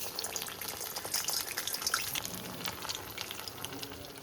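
Thin slices of ash gourd, already half-fried and sprinkled with salt, frizzle in oil in a wok over a low flame. The sizzle is steady and moderate, with light crackles and no voice over it.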